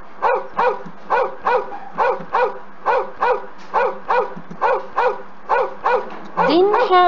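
Dog barking in a quick, steady run of about fifteen loud, close barks spread across several seconds, with a higher whimpering yelp at the very end.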